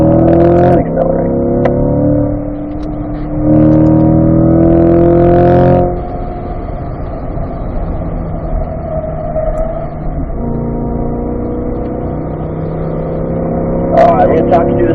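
A C8 Corvette accelerates on a race track, its engine note rising in strong surges, dropping briefly off throttle and building again, loud and close from inside the car, with a coach's voice talking over it.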